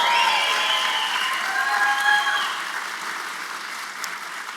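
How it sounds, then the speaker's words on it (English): Audience applause at a first-generation student celebration welcoming the class of 2026, a sustained loud clapping crowd that fades slightly toward the end. "One more round of applause."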